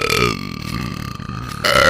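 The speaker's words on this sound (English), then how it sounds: "That was a good burp." A long, loud burp from a woman on a livestream, sustained and rumbling for nearly two seconds and swelling louder at the end, with no talk over it.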